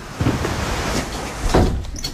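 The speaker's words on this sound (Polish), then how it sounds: "Drzwi!" A door opening and closing at night, heard as two distinct thuds or slides about a second apart, fairly loud and close, with no talking over them.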